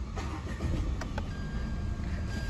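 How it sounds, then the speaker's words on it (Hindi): Engine of a 2022 Tata Tigor XZ+ car starting up, a short cranking burst followed by a steady low idle hum, close and alone without talk. "अगर मैं गाड़ी स्टार्ट करके दिखाऊं"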